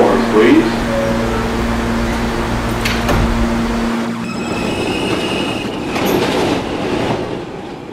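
Doors close on a New York subway J Express train at a station, a brief thump partway through over the rumble of the car, wheel squeal and sustained chime-like tones, with speech nearby.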